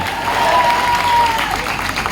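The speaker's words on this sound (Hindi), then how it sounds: "उनके जोरदार तालियों से स्वागत बनता है कि नहीं बनता है?" Crowd at a political rally applauds steadily to welcome a guest on stage, dense clapping throughout with a faint voice underneath.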